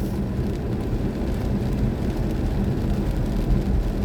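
Rain falls on a BMW i4 M50 during a morning drive, a steady dense patter and low road rumble heard from inside the car, continuous and fairly loud with no talking.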